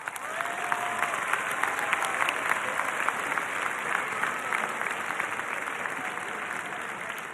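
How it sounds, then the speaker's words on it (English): A steady wash of audience applause at the Rockville High School commencement, continuous and moderately loud for the whole span with no pauses. "class of 2026, I want you to give your parents, guardians, and family members a round of applause."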